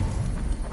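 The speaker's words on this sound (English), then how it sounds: "Now to deliver Magni his horse" Horse hooves clip-clopping in Assassin's Creed Valhalla, a quick run of close, muffled thuds over a low background.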